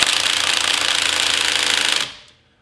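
A cordless impact wrench hammers loudly and rapidly at car lug nuts without breaking them loose, a close, continuous rattling burst that stops abruptly and rings out briefly.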